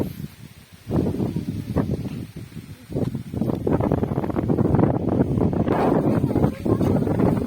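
Strong wind gusts through banana plants in the riverside village of Ezhumanthuruthu, a low buffeting roar against the microphone with rustling leaves that swells after the first second and keeps blowing steadily.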